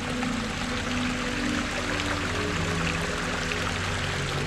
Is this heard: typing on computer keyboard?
no